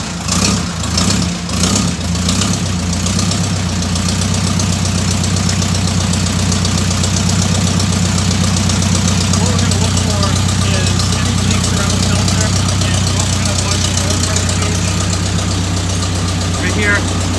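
A Ford Jubilee tractor engine cranks briefly with a few sharp turns, then catches and settles into a loud, steady idle with a rhythmic low knock, close by and continuous.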